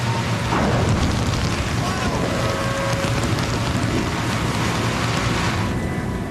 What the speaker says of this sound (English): in the middle of a downpour